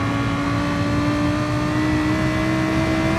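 Lamborghini Trofeo race car engine in a racing video game at Autodromo Lago Maggiore, a loud, steady, high-revving drone held throughout.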